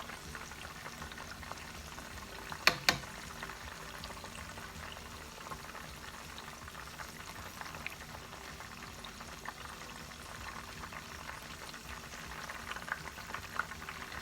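Homemade southern crunchy apple pies fry in oil with a constant soft sizzle and bubbling, faint and even throughout, broken by a brief sharp clink near the start.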